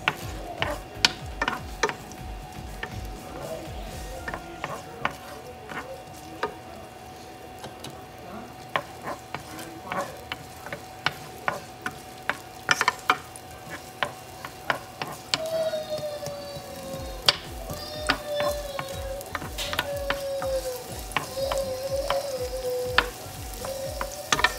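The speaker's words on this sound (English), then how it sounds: "Then the garlic. And let's saute until when it turns to color brown." Garlic sautéing in a pan, with a continuous sizzle broken by frequent sharp clicks and taps from a stirring utensil against the pan, close and steady throughout.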